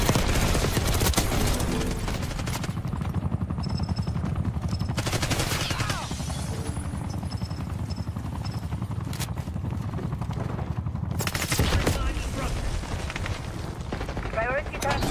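Sustained video game gunfire, with continuous rapid automatic bursts and heavy explosive fusillades alongside mechanical and helicopter-like rumble, loud throughout, and a player talking over parts of it.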